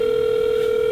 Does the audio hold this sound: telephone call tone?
yes